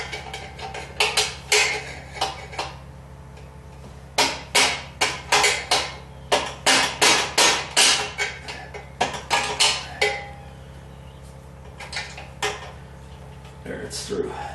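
Metal part on a 1976 Corvette being tapped through with a hammer during header and AC bracket work: sharp ringing strikes, first scattered, then a quick steady run of about a dozen, then a few more, close and clear.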